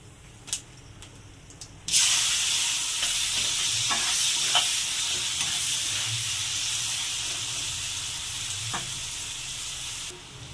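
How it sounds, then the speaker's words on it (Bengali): Chopped onion dropped into hot oil with whole cumin and bay leaf bursts into a loud, steady sizzle after a few light clinks, hissing continuously with occasional stirring scrapes. "এবার দিয়ে দেবো পেঁয়াজ কুচি"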